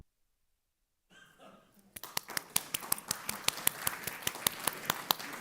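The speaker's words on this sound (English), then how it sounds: "Round of applause for the Congress members" A crowd claps for Congress members at a food-access event, building from a faint murmur into rhythmic, sharp applause that stays fairly loud to the end.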